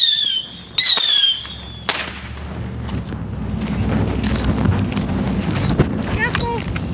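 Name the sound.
bottle rockets being set off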